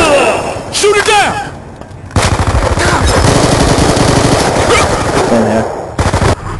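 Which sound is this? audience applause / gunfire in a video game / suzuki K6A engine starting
gunfire in a video game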